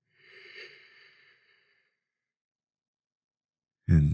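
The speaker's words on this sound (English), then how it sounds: "Let's take another deep breath here" A slow, soft deep inhale during a guided grounding meditation is heard as a gentle airy breath that fades into silence, before a voice starts at the end.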